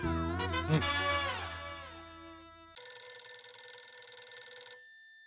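A telephone rings loudly up close, first a harsh jangling bell, then a steadier electronic trill that stops abruptly.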